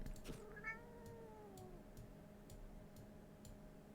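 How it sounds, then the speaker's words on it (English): A cartoon cat in a cat-finding video game gives a clear, rising-then-falling meow, close and alone, over a steady soft ticking like a clock running through the background. "Oh, there's a cat."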